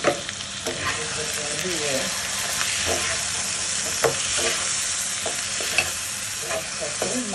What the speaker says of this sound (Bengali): একসাথে নাড়ছি।